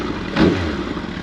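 A warmed-up 2003 Yamaha R1 motorcycle engine runs steadily at idle nearby, with a brief swell in loudness around the midpoint before settling back to a constant rumble, no voices.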